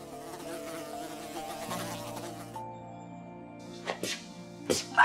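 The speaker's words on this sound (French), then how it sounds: "On doit entendre voler les mouches." Continuous buzzing of flies fills the space, steady and close with a few sharper rises near the end, standing alone without any talk.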